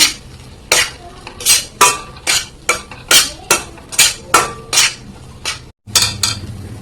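Semolina stirred in a pan on a gas stove, a spoon scraping and knocking against the metal in a steady rhythm of about a dozen sharp strokes, close and clear, with a brief gap near the end.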